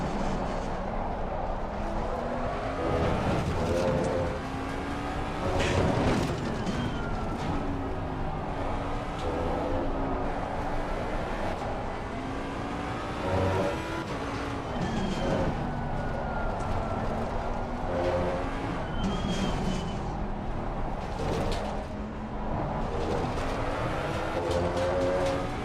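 A Ford Mustang GT3 race car in Assetto Corsa Competizione, heard from the cockpit with engine and exhaust together, drones steadily and loudly throughout, its pitch rising and falling through gear changes, with no talking.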